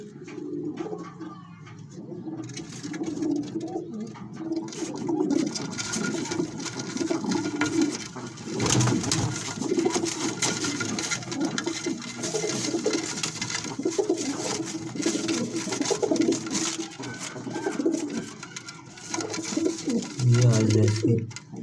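Pigeon cooing close by, a steady low warble running through the whole stretch with soft rustling, and no one talking over it.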